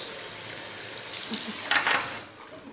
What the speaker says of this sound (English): Just let the water do its work and make sure that all the perm lotion is out of the hairs.